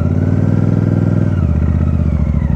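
A Royal Enfield Super Meteor 650 engine runs up close on a mountain road, a loud, steady rumble whose tone shifts partway through as the bike edges forward.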